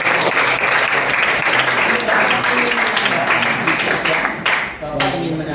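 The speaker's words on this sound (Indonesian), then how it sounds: "tepuk tangan dong" A classroom of students bursts into loud, sustained clapping that fills the room for several seconds before tapering slightly near the end.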